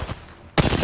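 Video game gunfire in a battle-royale shooter, starting as a sudden loud burst of rapid shots after a quieter stretch and continuing to the end.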